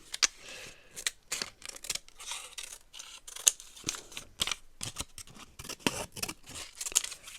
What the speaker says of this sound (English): Just gonna cut the little borders off of this.